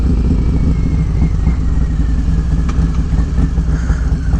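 A Harley-Davidson Road Glide motorcycle rumbles steadily while riding in the Daytona area, with a loud, continuous low engine drone and wind noise throughout.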